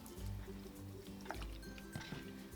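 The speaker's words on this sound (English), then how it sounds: "Now I'm going to add some distilled vinegar" Distilled vinegar is poured onto onions in a kitchen, a soft close liquid trickle and splash with a few wet drips over a couple of seconds, quiet and alone.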